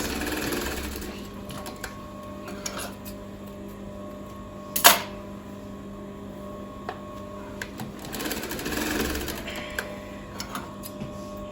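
A sewing machine stitches the waistband of a pencil skirt, its steady low whir running through most of the stretch with one sharp click partway through and faint handling noises around it.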